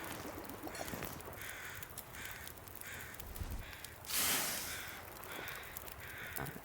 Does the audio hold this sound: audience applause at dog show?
no